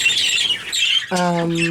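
A pet bird kept for breeding gives a few loud, close, harsh squawks, with a sharper rising call near the end.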